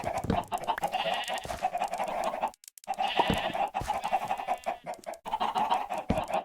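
Chickens cluck in a Minecraft game, with short repeated clucking calls in steady bursts and one brief pause, clear and fairly close with no talk over them.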